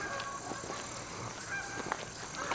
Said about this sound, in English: I don't want to feed these Canadian geese.